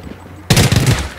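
A burst of rapid automatic gunfire from a video game erupts abruptly after a quiet half-second and rattles on loudly to the end.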